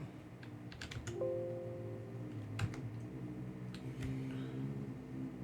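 Keys clack on a computer keyboard during a Linux command-line session, a few quick clustered taps and isolated strokes over a low steady room hum.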